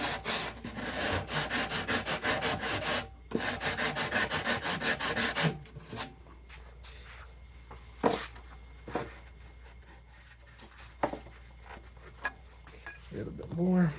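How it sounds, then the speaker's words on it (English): A rasp files across the wood of a trophy buck taxidermy form. Rapid, close back-and-forth strokes come first, then sparse single scrapes with pauses and a brief low voice near the end. "So I'll hit that with a rasp"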